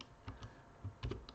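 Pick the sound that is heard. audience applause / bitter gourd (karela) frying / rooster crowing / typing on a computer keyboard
typing on a computer keyboard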